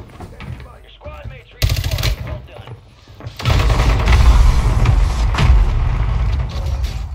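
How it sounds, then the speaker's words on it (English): Mortar strike and gunfire in a video game, a sudden loud burst followed by a heavy, sustained roar of explosions and rapid shots that stays dense and booming to the end, with voices talking beneath the opening. "Mortar strike."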